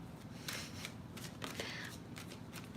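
Tarot cards are shuffled by hand in quick, soft riffling bursts, close but quiet over a steady background hiss.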